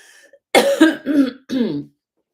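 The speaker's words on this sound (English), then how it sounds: "Excuse my cough." Three harsh coughs in quick succession, with a brief throat-clearing rasp between them, loud and close.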